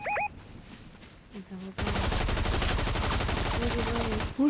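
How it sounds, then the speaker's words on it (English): Gunfire in the Fortnite video game: a few sharp shots early on, then a dense burst of rapid automatic fire lasting several seconds, close and loud, mixed with other game sounds. "Who's shooting me?"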